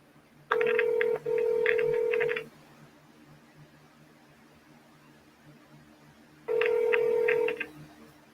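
A telephone call to TSN rings through on the line, two long warbling ring bursts separated by a few seconds of quiet line hiss, clear and close.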